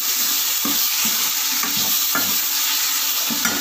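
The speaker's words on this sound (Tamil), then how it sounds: "அதையும் நல்லா வதக்கிடலாம்." Chopped tomatoes sautéing with onion and green chili in a pan give a steady loud sizzle, broken by regular scraping stirs from a spoon, with no talk.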